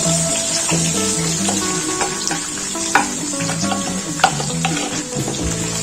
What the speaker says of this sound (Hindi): अब इस ऑयल में मैंने ये जो गोश्त को अच्छे से उबाली था, वो सारा इसमें शामिल कर देंगे